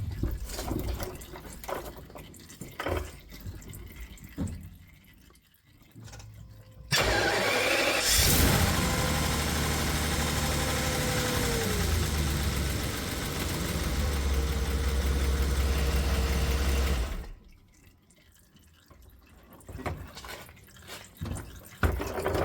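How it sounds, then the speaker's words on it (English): BMW E38 750i V12 turns over and catches, settling into a loud, steady idle for about ten seconds before shutting off, with quieter drips and trickling fluid around it. "I'll start the engine again and just briefly put it in drive"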